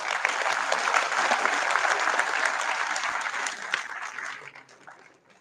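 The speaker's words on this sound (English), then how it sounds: "yeah, you can clap for it." A crowd applauds at an event, a loud burst of many clapping hands that holds steady before thinning out and fading toward the close.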